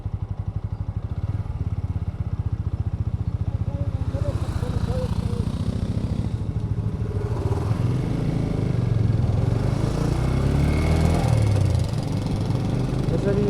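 Motorcycles ride a cold mountain road in North Sikkim between Lachung and Yumthang valley. A steady close engine rumble runs throughout under wind noise, growing slightly louder toward the end.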